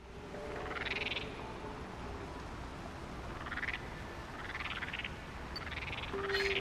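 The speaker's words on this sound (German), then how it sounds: "dass eine Bunke wirklich wie Frösche auch ihre Backen aufblasen und so. Also aufquaken halt." A Pokémon in New Pokemon Snap croaks like a frog, puffing up its cheeks, in a string of about five short rising calls over steady background game ambience.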